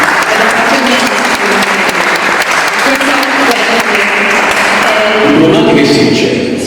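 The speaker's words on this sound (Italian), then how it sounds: "quindi un applauso a loro" Loud, dense audience applause at a national poetry prize ceremony, continuous throughout with no gaps, swelling slightly near the end.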